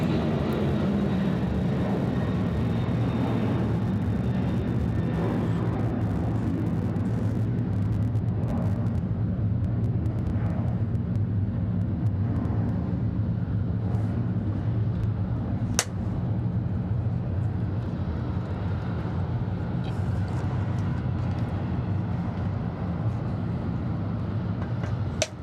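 A UPS cargo airliner, not an MD-11, roaring past at an Atlanta airport on a hazy day as a loud, steady engine rumble that lasts throughout.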